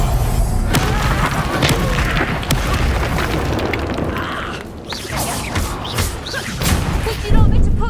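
Confringo blasting spell explosions in the video game Hogwarts Legacy, with dense booming blasts and thuds repeating throughout amid game effects and rumbling noise, loud and continuous.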